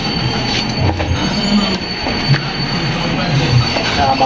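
An electric grinder runs steadily after a carbon brush replacement, giving a loud continuous motor whine and rumble close up. The sound holds for a few seconds with no voices.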